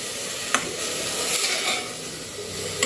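Mung dal and matki being stirred in a pot give soft scraping, swishing strokes with a couple of sharper knocks of the spoon against the side, over a faint steady hiss.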